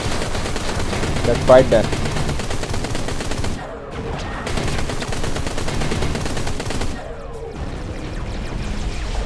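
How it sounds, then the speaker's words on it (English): Enemy ships fire rapid bursts of gunfire in the space-combat video game Everspace 2, dense crackling volleys broken by two short pauses, with someone speaking briefly over the shooting. "Okay, why are those guys shooting at me?"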